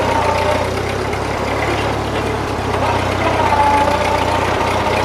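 A 1941 Ford 9N tractor engine runs steadily at a low, even chug, loud and close, with someone talking over it.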